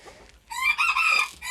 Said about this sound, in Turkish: Bakın şu bir horozumuz. Şurada bir horoz var.